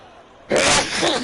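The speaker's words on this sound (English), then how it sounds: "Oh my god, sorry, I'm sneezing" A man sneezes once during a live Formula 1 broadcast, a sudden, loud, close burst that cuts through a quiet background and trails off into a short breathy tail.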